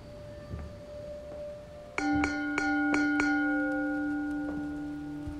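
Church bells in the horror video game The Ten Bells strike five times in quick succession, each ringing note lingering and overlapping into a sustained resonant hum over quiet ambience.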